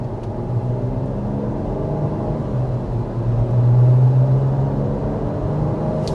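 Steady low road rumble and engine drone inside a 2025 Jeep Grand Cherokee L cruising over a wavy road, continuous and even with a slight swell in the middle, no voices.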